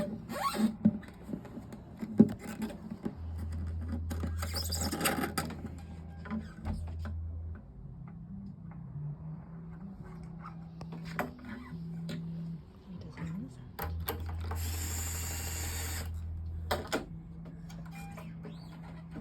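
Small hand string winder turning classical guitar tuning pegs: quick whirring, ratcheting bursts of winding broken by brief pauses and light handling clicks, close and fairly quiet.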